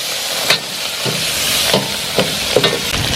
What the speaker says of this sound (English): start stir frying these flavors together.